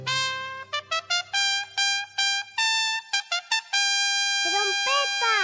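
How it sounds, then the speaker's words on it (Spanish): A trumpet plays a bright staccato series of short repeated notes, followed by a long held tone that bends and wavers at the end, close and alone. "Es una trompeta."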